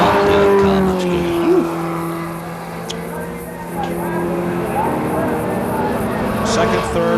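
Race cars in a 1980 national championship race roar past with sustained engine drone and brief tire squeals, heard under a commentator's talk.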